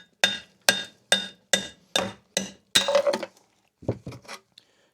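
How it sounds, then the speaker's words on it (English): Six evenly spaced, sharp metallic hammer blows ring out as a wheel stud is driven out of a vehicle hub, followed by a quick flurry of clanks and a few softer taps. "And so I'm going to hammer out one of the studs."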